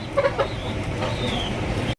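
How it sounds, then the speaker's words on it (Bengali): A pair of jet-black, large Dauka pigeons in a pet market cooing a few times near the start, a close, soft murmur of birds over a steady bustle of other fowl and clucking in the background. "দর্শক এখানে রয়েছে কালো কুচকুচে একজোড়া ডাউকা কবুতর"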